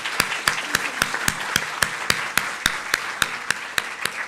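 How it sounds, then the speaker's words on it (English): At a Dataverse community meeting, sharp, evenly spaced claps ring out close by in a steady metronome-like rhythm, about four per second, over a faint wash of softer clapping from the panel audience. "so please give a big round of applause to our panelists."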